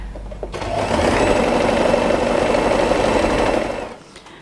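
An electric sewing machine stitches fabric for a ruffle hair accessory, a loud, even mechanical whir that starts up, runs steadily for about three seconds and then winds down, with no talking.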